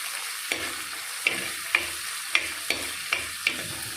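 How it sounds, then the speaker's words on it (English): Chopped tomatoes sauté with browned onions for a Goan chicken xacuti, a steady close sizzle broken by about seven sharp spoon scrapes and stirs against the pan. "Now is the time we add the chopped tomatoes and saute them as well"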